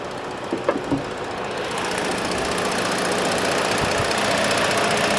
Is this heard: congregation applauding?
no